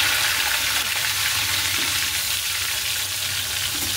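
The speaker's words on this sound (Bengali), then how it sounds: "চলো মাছগুলো কটা ভেজে নিই।" Fish fry in hot oil in a kadai, giving a loud, dense, continuous sizzle that stays even throughout with a low hum underneath.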